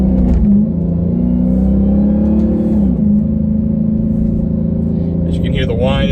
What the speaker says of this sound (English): As you can hear the whine and the spinning of the tires